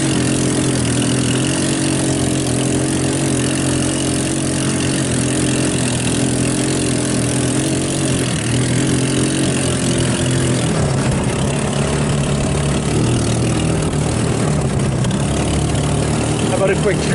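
A salvaged off-road go-kart engine runs continuously and loudly up close while doing donuts in a pasture, holding a steady mid-pitched drone with small shifts in revs throughout.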